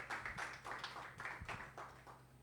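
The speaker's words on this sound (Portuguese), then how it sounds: "Que a igreja o receba com uma calorosa salva de palmas para Jesus" A church congregation claps in loose, uneven bursts, a few distinct hand claps standing out near the microphone over a softer spread of clapping farther back, fairly quiet overall.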